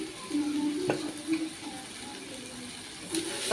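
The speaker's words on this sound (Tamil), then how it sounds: "பெப்பர் ஆட் பண்ணி நல்லா கிண்டி விட்டுக்கலாம்." Pepper liver fry sizzles steadily in a pan, a continuous close hiss, while a spoon scrapes and stirs it with a few sharp clinks and tonal scraping strokes.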